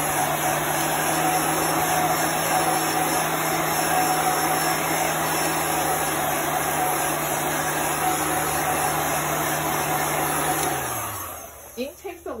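A heat gun blows a loud, steady, whooshing roar over drying chalk paste for about eleven seconds, then winds down and cuts off, leaving faint handling noises.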